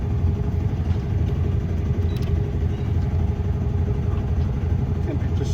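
Inboard engine of a Compass 29 yacht running at about 2,000 revs in Sydney Harbour, a loud, steady low droning rumble close by, with someone speaking over it.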